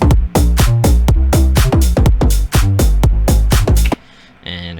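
A Sylenth synth bass plays a future bounce melody loop, its punchy, plucky notes falling in a bouncy syncopated rhythm, loud and close, before cutting off into a brief softer tail.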